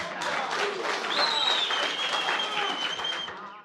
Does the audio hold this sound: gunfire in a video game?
no